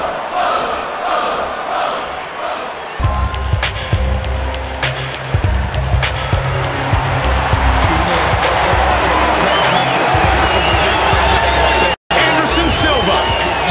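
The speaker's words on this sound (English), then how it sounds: "listen to the crowd. They love this guy." Crowd roars and cheers from an arena audience in the UFC Undisputed 3 video game, a loud sustained wash of noise filling the space, with an announcer-style voice and game sounds layered on top.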